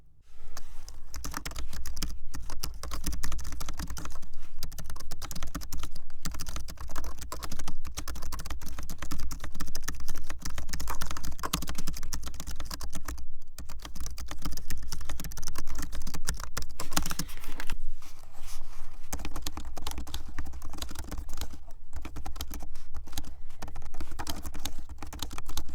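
Fingers type continuously on budget laptop keyboards, a Lenovo 100e 4th Gen and an HP Fortis G1m, producing a quick, fairly quiet patter of soft, mushy key presses with short pauses between bursts and no voices.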